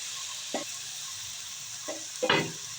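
Rice, lentils, potatoes, green chilies, salt and turmeric being stirred together in a pot for soybean khichuri, with a few brief scraping strokes over a steady background hiss.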